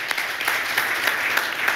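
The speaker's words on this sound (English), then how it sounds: "Give a round of applause to our panelists here." Brief audience applause for panelists at an open source AI conference discussion, a moderate wash of many hands with a few sharper individual claps standing out.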